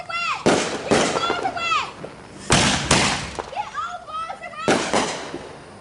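Fourth of July fireworks burst in loud, booming explosions, about four spaced blasts with crackling and whistling tails, while people talk and exclaim nearby.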